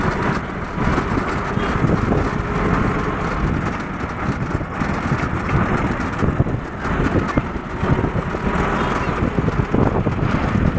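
Rushing wind roars steadily against the microphone while riding in an open-sided auto rickshaw, with a low engine rumble underneath throughout and no clear talk.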